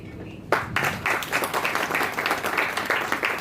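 An audience at an indoor program applauds, breaking suddenly into steady, dense clapping from many hands that continues close and loud throughout.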